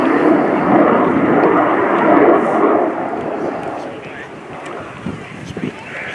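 A Sukhoi Su-27 Flanker fighter jet flies a tight display turn at an air show, its broad, loud engine roar fading slightly midway, with a commentator talking over it.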